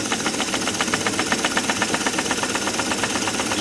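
A small PM Research model dynamo running on a bench, a steady rapid mechanical whirring and ticking, loud and close, with no voices.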